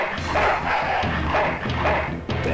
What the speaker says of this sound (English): Oh, junkyard dog, as to be expected